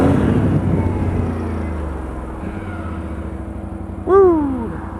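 A Honda ATV on 31-inch MotoHavok tires drones with a steady, moderately loud engine hum as it is ridden, and a short whooping cry rises over it near the end.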